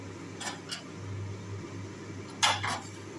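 A lid clinks onto a cooking pot of boiling potatoes for a Bengali katla fish dish, two light metallic taps followed a moment later by two sharper ones, over a steady low kitchen hum.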